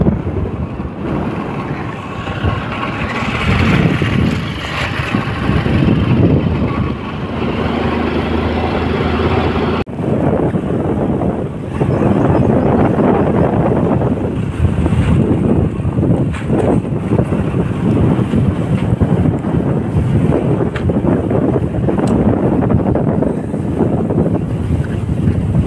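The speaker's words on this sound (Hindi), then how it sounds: "पूरा मोटरसाइकिल खींचा हुआ है, अभी कम से कम 80 की स्पीड में जा रहा है" A motorcycle is ridden at roughly 80 km/h on a hill road toward Katra, with strong, steady wind buffeting and a low engine drone running loudly and continuously throughout.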